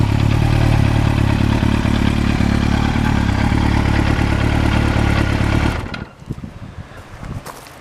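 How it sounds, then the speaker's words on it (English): A 2004 Yamaha R1 motorcycle in good condition, its engine running loud and close with a steady rumbling burble for several seconds before dropping to a quieter, uneven idle. "We've got a lovely condition 2004 Yamaha R1."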